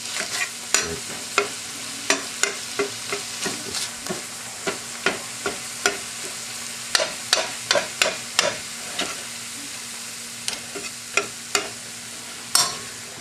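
Pork frying in a pan, with a steady sizzle under a series of sharp scrapes and clacks as it is stirred at a regular pace, close and fairly quiet with no talk.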